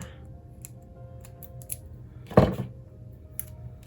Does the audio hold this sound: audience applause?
no